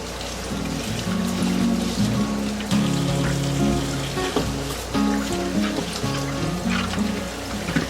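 Apples being washed under running water from a kitchen tap, a steady splashing pour with uneven dribbles as the fruit is turned in the stream, continuous and close.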